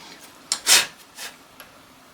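A quarter-inch wooden dowel is pushed into a precisely machined quarter-inch hole, giving a few short rubbing, scraping bursts of wood forced into a tight press fit, close and fairly quiet with pauses between strokes.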